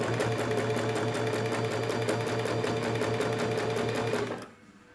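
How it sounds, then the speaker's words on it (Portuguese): A sewing machine stitches around a fabric heart with a steady, fast mechanical whirr of needle strokes. It runs close and continuous, then stops abruptly near the end, with no talking. "Parei com a agulha, levantei o pezinho calcador, vou virar para continuar a costura"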